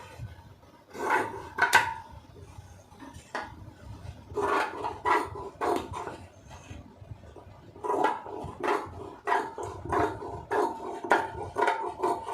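Scissors cutting lining fabric for a blouse, a series of close, crisp snips and rustling scrunches in uneven bursts, fairly quiet with no talking.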